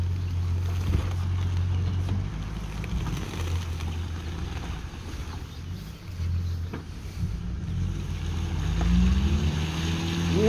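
A motorboat engine drones at a steady low pitch throughout, with wind and water noise over it; the engine rises and swells near the end.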